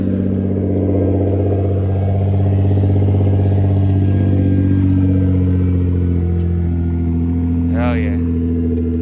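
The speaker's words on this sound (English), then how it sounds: "Let's go get the exhaust sound." A Nissan GT-R exhausts steadily after a cold start, a loud, constant low engine drone with a brief higher whine near the end.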